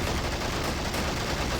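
Machine gun fire in a video game battle at a crumbling bridge, a dense unbroken roar of rapid automatic shots filling the short stretch loudly and evenly with no voices.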